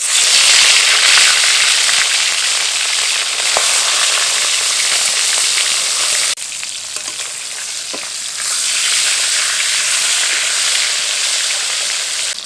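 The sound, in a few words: fish heads frying in hot oil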